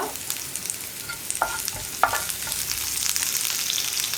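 Onions, curry leaves and dried chilies fry and crackle in a pan for a tapioca curry, with a steady sizzle and a few sharp stirring scrapes, close and fairly loud, no talking.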